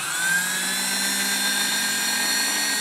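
A starter motor spins freely without engaging the flywheel on a Subaru-swapped Porsche bare chassis, giving a steady, loud high-pitched electric whine that holds constant for about three seconds, alone and close up.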